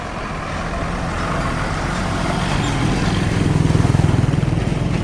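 A truck engine rumbles and grows louder as the truck moves along the potholed BR-259 federal highway in the urban stretch of Aimorés. A heavy, continuous road roar swells as it comes close, with no speech.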